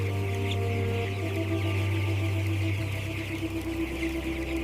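Broiler chickens in an industrial chicken house, a dense continuous clucking murmur over a steady low mechanical hum, with no talk.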